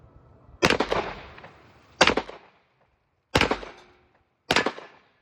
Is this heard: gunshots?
yes